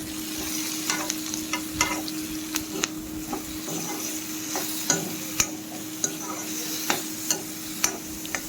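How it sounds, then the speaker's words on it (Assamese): Pork and onions fry in a pan while being stirred, giving a continuous close sizzle punctuated by frequent sharp clacks and scrapes of the utensil against the pan at an irregular rhythm. "মাংসখিনিৰ লগত পিঁয়াজটো ভালকৈ মিলাই লৰাই দিছোঁ"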